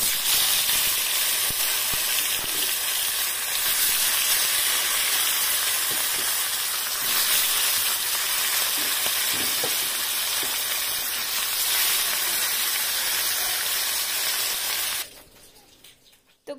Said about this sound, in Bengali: মাছগুলো ভাজতে হবে, মাছগুলো ভেজে নিই।